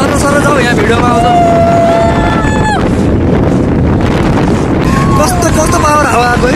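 Strong wind buffets the microphone in Mustang, Nepal, a loud continuous roar filling the whole clip while people shout and talk over it.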